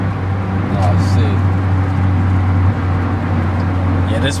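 Street traffic with cars driving past, a steady low engine hum up close, with brief higher noise bursts and a passing vehicle fading out partway through.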